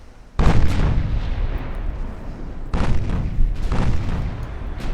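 Heavy naval gun salvos in the Ultimate Admiral Dreadnoughts naval battle game, including 8-inch guns: a loud booming blast after a brief quiet, then more rolling reports, with dense rumbling explosions continuing throughout.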